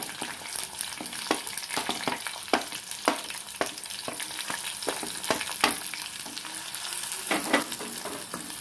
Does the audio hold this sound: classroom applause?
no